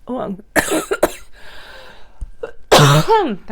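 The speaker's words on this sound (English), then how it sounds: "cough just caught me out of nowhere" A couple of harsh coughs break out among breathy, strained vocal sounds, close and fairly loud, ending in a rough throaty burst.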